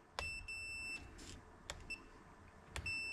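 A continuity tester sounds short high-pitched beeps while probing the sun visor vanity light wiring of a 2018 Toyota Tundra, several separate beeps of varying length against a quiet background.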